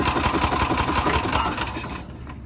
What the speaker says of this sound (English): You can see when I hit the gas